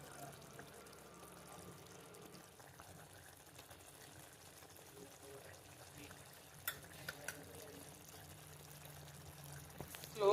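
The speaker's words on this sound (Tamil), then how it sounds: "மீன் நல்லா ஸ்லோ ஃப்ளேமில் வைங்க. அப்படியே இருந்து வேகட்டும்." Quiet, steady frying hiss with faint crackles from sardines frying over a slow flame, low and close, with a few soft clinks toward the end.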